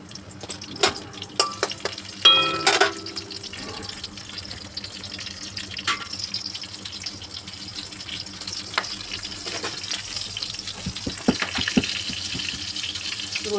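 Black cumin seeds and green chillies crackle and sizzle in hot oil, a dense steady frying hiss with scattered pops and a few sharper clinks near the start, close and continuous, no talk.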